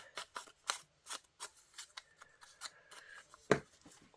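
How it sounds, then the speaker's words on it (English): Scissors trim paper for a junk journal craft project, producing a series of quiet, irregular snipping and rustling sounds close by, with no talking. "I'll just trim that a little bit"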